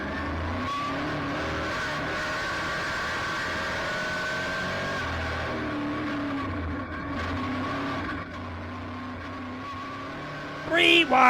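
Race cars circle a dirt oval track, their engines droning at a distance and rising and falling as they go around. A commentator talks over the engine noise throughout.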